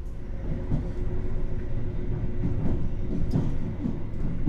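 A train rumbles past at Lempuyangan station, Indonesia, heard from aboard a passing train, with a low steady roar and faint rattling clatter, continuous and fairly close, no voices.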